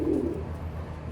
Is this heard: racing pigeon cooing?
yes